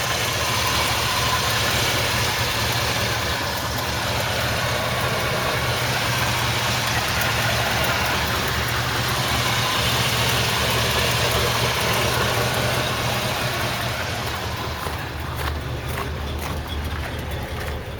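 A 1979 Ford F150 4x4 pickup truck engine idles steadily and evenly throughout, a continuous low rumble with no revving, close and moderately loud.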